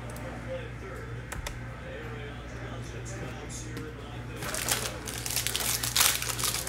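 A Mosaic football card pack is torn open, with crinkling foil and paper rustle that builds to louder crackles near the end. The sound is close, over a low steady background hum.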